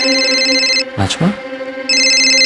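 A telephone rings with a bright electronic tone, one long burst, then a short pause during which a voice speaks briefly, then the ringing starts again, loud and close.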